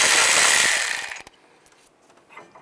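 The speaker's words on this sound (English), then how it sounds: "Take this nut off. And take this bolt off. Same 10mm socket." A 10mm socket ratchet spins off a bolt on a 2010-2017 Chevrolet Equinox during transmission mount work, a loud whirring buzz that fades out, then a few faint clicks and clanks.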